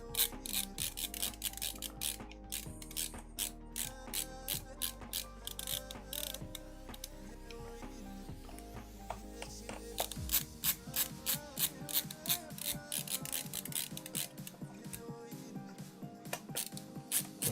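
Dense rapid clicking and rubbing of an LTT screwdriver's ratchet mechanism, close and continuous with brief pauses, turning in quick bursts during a DIY headphone build.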